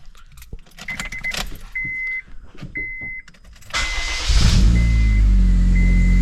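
A car engine cranks and catches after some key jangling and short electronic chimes, then settles into a loud, steady, slightly raspy idle close by.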